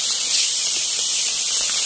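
Koi fish frying in a pan over a clay stove gives off a steady, close, bright hiss of sizzling oil that runs unbroken throughout.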